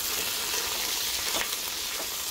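Thyme and marjoram sizzle and crackle steadily in hot oil in a pan, a dense, close frying hiss with no talking.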